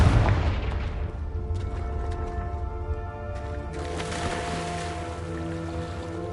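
The Confringo fire-blast spell in Hogwarts Legacy goes off as a heavy booming blast, followed by a sharp second burst and crackling, ringing tail with tonal game sounds beneath.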